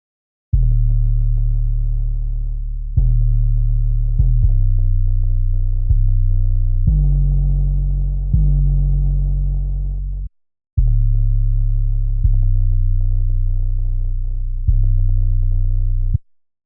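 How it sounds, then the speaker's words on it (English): Deep 808 bass drum notes set to full sustain, each one a booming, pitched low tone that holds for the length of its note before cutting off, in a steady sequence of about nine hits with one short gap, loud and alone. "Going to the drums, the first sound is 808"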